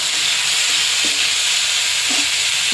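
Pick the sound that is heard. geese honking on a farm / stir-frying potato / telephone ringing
stir-frying potato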